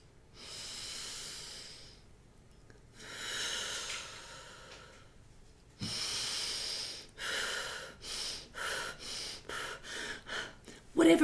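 Labour breathing techniques are demonstrated with long audible breaths through nose and mouth. They start as slow drawn-out inhales and exhales, then turn into a run of short, quickening rhythmic puffs, close and breathy.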